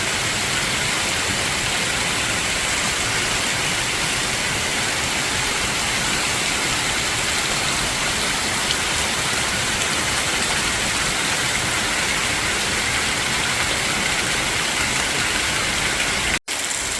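Hurricane Helene floodwater rushing past steps and into the woods beside a house, a steady, loud broadband roar of flowing water and rain with no break, alone without voices.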